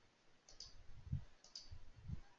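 Two faint, quick computer mouse clicks, each a tight double tap, about a second apart while working in Excel, over a low room hum with no talking.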